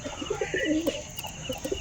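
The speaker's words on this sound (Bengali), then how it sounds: "নর পায়রার ডাক দেখেছো" A male pigeon coos close by in a short run of soft, throaty, repeated notes over light background noise.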